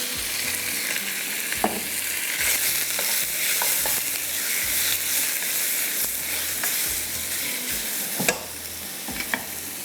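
Garlic and chicken fry in oil in a pan, producing a loud, dense sizzle throughout with a few sharp clicks of stirring near the end.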